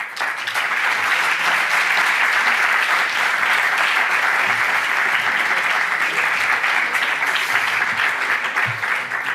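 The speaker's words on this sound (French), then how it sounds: "Applaudissements bien nourris et bien mérités." Loud, sustained applause from a large audience at an urban planning and renovation conference, dense steady clapping filling the room for the whole stretch without pause.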